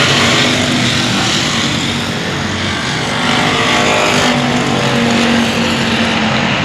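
Race cars roaring around the Cotton Bowl Speedway oval, a loud, continuous engine drone with a steady pitch that swells and fades slightly as the pack passes close by, with no voices over it.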